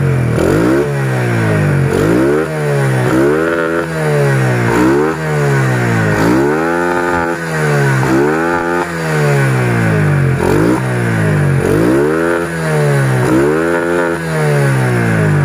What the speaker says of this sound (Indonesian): kita gas mentok ya.